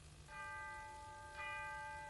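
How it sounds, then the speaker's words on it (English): A church bell chimes midnight, with two faint, ringing strikes about a second apart over a quiet background hiss. "Chiming midnight."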